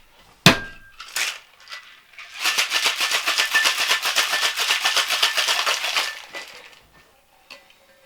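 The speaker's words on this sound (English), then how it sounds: "this is going to get some ice, and this is going to get shaken as well." Cocktail shaken hard with ice in a shaker: a sharp knock and a few rattles, then a sustained, rapid rhythmic rattle of ice lasting about four seconds, close and loud, before it stops.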